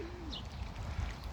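Pigeons cooing outdoors on a walk near Vålerenga/Vahalla area in Oslo, Norway, with ducks and crows nearby; a soft, brief low coo over steady outdoor background noise.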